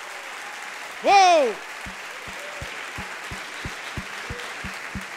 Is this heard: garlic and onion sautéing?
no